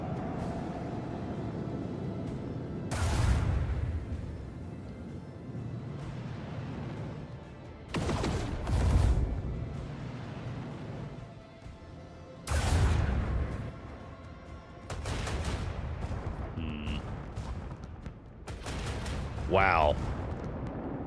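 Space combat in Warhammer 40,000: Rogue Trader, with torpedo and flak barrage fire going off as several heavy booming volleys spaced a few seconds apart, loud and broadband, with a voice talking in between.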